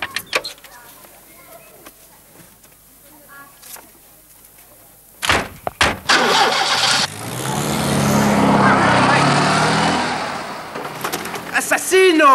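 A car door shuts, then the engine starts and revs as the car drives off, loud and close after quiet indoor sounds with some voices.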